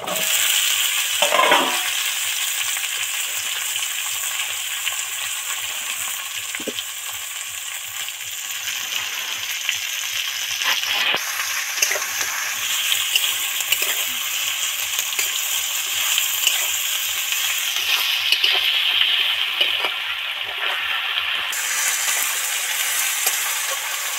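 Potato, eggplant and tomato sizzle and crackle steadily in hot oil in a pan, with occasional stirring clinks, continuing for the whole stretch with no talking.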